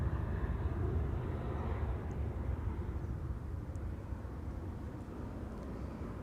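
A Georgian Airways airliner bound for Tbilisi at Amsterdam Schiphol Airport gives a steady, low, distant jet rumble that holds at an even, fairly quiet level throughout, with no talk.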